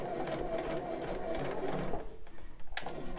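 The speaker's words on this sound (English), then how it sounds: "I'm going to sew off the end again and make myself a chain" A sewing machine runs steadily off the end of a bra seam to chain off, its motor whirring continuously for about two seconds before slowing and stopping.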